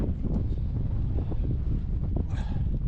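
Strong wind gusts steadily across the microphone on an exposed stretch of a solo hike on Alaska's Kenai Peninsula, a loud continuous low rumble and buffeting throughout, with a brief hiss near the end.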